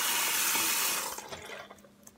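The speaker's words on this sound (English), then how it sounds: "So I rinse my hands." Tap water runs into a sink as hands are rinsed. A close, loud hiss of flowing water fades out after about a second, and faint splashes and drips follow.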